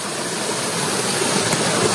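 River water rushes over a waterfall at Way Bernung, making a loud, steady, close hiss that fills the whole moment with no voices.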